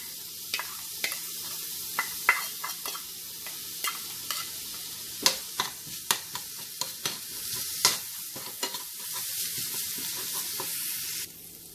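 Ginger garlic paste sizzles softly in a pan for a long stretch, a steady frying hiss broken by frequent sharp scrapes and taps of a spoon stirring it, with no talking.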